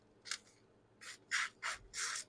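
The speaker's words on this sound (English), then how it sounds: "That ripping of the magazine paper is just me." A sharp knife slices through magazine paper in several quick strokes, one short cut followed by four longer rasping rips, close up and crisp.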